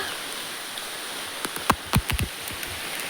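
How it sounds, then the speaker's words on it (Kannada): Light rain patters steadily on a large pond, with a few distinct drip-like plinks standing out near the middle against a soft, even hiss. "ನಮ್ಮ ಕೆರೆಯಲ್ಲಿ ನೋಡಿ ಮಳೆ ಬರುವಾಗ ಎಷ್ಟು ಚಂದ ಕಾಣ್ತದೆ, ಮಳೆ ಹನಿಗಳು ಬೀಳುದು"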